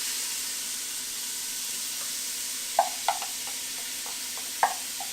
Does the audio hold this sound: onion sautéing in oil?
yes